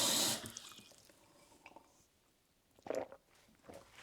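Water from a kitchen tap runs briefly at first, then quiet swallowing and gulping sounds follow as someone drinks, close and faint, with small liquid clicks between sips.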